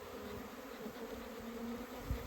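Honey bees buzz at an opened hive during an April inspection in Alberta, a faint, steady droning hum that continues without a break.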